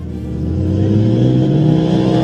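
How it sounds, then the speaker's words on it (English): A UTV engine revs up steadily, its pitch climbing as it comes over a hill, drawing closer and growing louder during an off-road desert race in Mexico, with no other sounds. "Another UTV coming over the hill."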